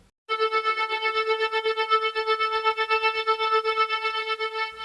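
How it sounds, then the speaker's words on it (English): Continuo from Karanyi Sounds plays a sustained synth chord with a rhythmic 16th-note pulse effect, bright harmonic tones throbbing quickly and evenly for about four and a half seconds before cutting off, with no talking. "Head back to the pulse. Let's check it out. So this is 16th notes."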